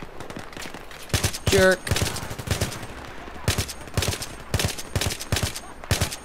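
Rapid gunfire bursts from the player's gun in the first-person shooter Battlefield 3, sharp repeated shots in clusters with a brief electronic tone and a man's short spoken word over the fire.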